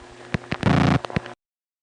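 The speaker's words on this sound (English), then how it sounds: "That caused the normal clicks of dialing to make more of a razzing sound like this." Sped-up rotary telephone dial clicks from a modified spring mechanism, heard in the 1970s telephone network, blur into a short buzzing razz between a few separate clicks, fairly close and alone.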